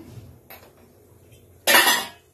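A kadhai (wok) is set down on a stove: a faint metallic scrape, then one loud, close clattering clank that rings briefly and fades.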